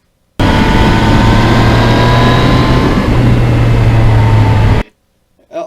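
A 2020 Yamaha MT-09 motorcycle on the move produces a loud, steady engine drone mixed with wind rush, its pitch stepping slightly midway before it cuts off abruptly, leaving near silence.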